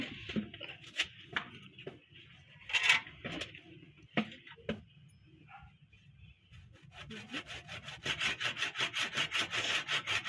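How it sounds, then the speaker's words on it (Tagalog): Rough, rhythmic rasping strokes of a hand saw biting into a hard miracle fruit shell, starting irregular with knocks, then settling into fast, steady back-and-forth sawing. "biyakin gamit ng lagari."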